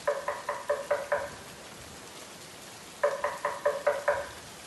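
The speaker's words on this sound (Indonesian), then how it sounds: "Ketika Sisi dan Memi lagi asik nonton TV, tiba-tiba aja ada suara ketukan pintu dari luar." Two quick bursts of rapid knocking on a door, about five raps each, separated by a pause, set against a faint background hiss as a sound effect in a narrated story.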